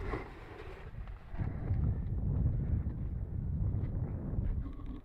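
Steady gusty wind buffets the microphone outdoors at an RC model airfield, a dense low rumble that swells after the first second and keeps blowing throughout, loud and close with no talk.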